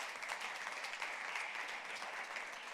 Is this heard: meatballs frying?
no